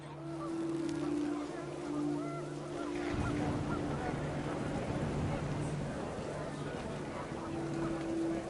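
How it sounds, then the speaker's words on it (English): Geese honk repeatedly over a steady background rush, several birds calling at once, moderately loud and close, in the video game What Remains of Edith Finch. "The wind picked up, and panicked geese appeared and quickly went."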